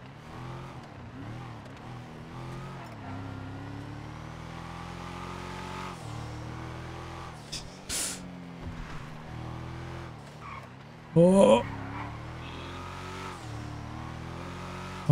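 A truck engine in the GTA 5 video game drones steadily while driving along a narrow road, with a brief louder burst near the end and a single short spoken exclamation.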